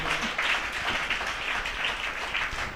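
A worship congregation claps together in a dense, sustained burst of applause that holds steady for a few seconds, with a faint murmur of voices mixed in.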